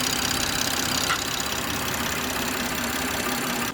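A BMW F30 340 with a B58 engine idles steadily, its loud fuel pump whining over a constant, even engine drone with no break.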